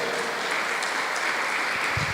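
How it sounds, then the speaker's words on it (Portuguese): A congregation at a Friday evening worship service applauds loudly, a dense and continuous wash of many hands clapping that holds steady throughout. "Vamos aplaudir bem forte a Jesus, que Ele merece."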